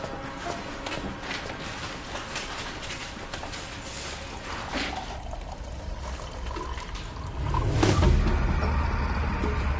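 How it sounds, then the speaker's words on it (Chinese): Hot water is poured into a cup in a village home, a steady trickling wash that swells louder near the end, with no talking over it. "我给你倒水"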